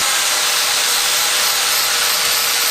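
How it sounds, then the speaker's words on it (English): An angle grinder grinds down welds on steel tube, a loud, steady, harsh grinding roar held at constant intensity close by throughout. "grinding down the welds, so it'd be easier to weld on"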